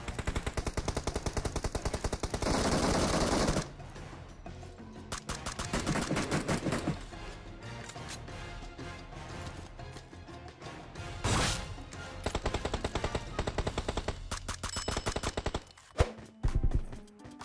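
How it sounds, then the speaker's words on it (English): Rapid gunfire bursts in PUBG Mobile, loud and close, with sustained automatic fire early on, then scattered shots and sharp cracks from a hot drop, including suppressed rifle and anti-materiel rifle fire. "Oh, AMR shots? Dude, the suppressed shots inside the hot drop, too."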